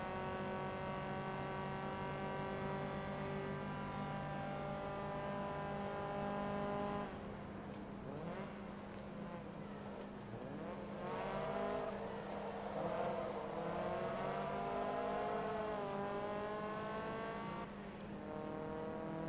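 Race car engine in the video game Forza Motorsport 2, during a 150 HP invitational race: a steady, loud droning tone with layered harmonics that shifts pitch midway as the car revs and changes gear, with no talking.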